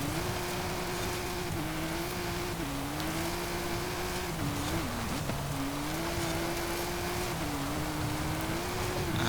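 The original, fully upgraded engine of a 2017 Aston Martin Vanquish Zagato Coupé in Forza Horizon drones steadily, its pitch dipping and rising with gear changes under a loud wash of road and wind noise.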